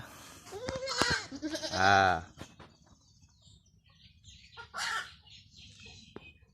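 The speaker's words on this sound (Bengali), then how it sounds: "এখানে ছাগল যুদ্ধ চলছে" Goats fighting bleat loudly in a few harsh, quavering calls, with scuffling noises and quieter pauses between them at close range in a village yard.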